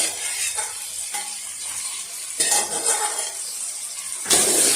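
Prawns tossed into sizzling ginger-garlic masala and stirred, making loud close frying hiss with repeated scraping spoon strokes against the pan and a few metallic clinks, without talk.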